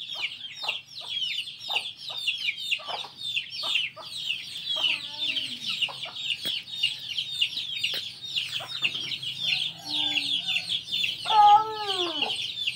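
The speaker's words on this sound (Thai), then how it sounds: "วางไก่ลงมันกินข้าว" Chickens cluck and squawk continuously while feeding on rice, busy close pecking clicks under steady chatter, with a few longer rising calls standing out near the end.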